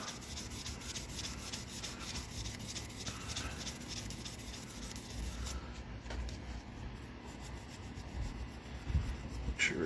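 Abrasive paper rubs steadily against a spinning maple burl pen blank on a lathe, making a continuous close scratchy hiss that holds at an even level throughout.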